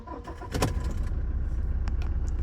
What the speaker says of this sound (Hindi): तब तक you just listen to the voice of a Toyota starting